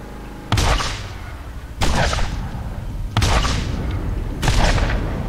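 Four heavy vehicle cannon blasts with explosions in the Borderlands video game, each a loud booming impact followed by a rumbling tail, spaced roughly evenly over several seconds.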